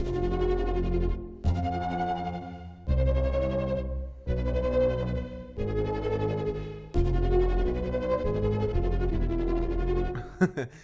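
A dark, tense synthesizer pad, the 'Haunted House' preset in the Vital synth, swells in long sustained chords that shift every second or two, loud and alone with no voices.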